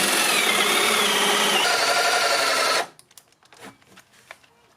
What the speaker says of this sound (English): Look at my drill's burning out.